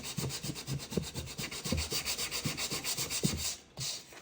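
Sandpaper rubbing back and forth along the lacquered edge of a wooden window, a close, steady run of rhythmic scraping strokes that continue without pause and stop briefly near the end.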